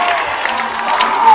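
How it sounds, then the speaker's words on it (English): A packed home crowd roars and cheers during a university homecoming football game, loud and continuous, a dense wash of voices filling the building with no single speaker standing out. "the crowd goes crazy"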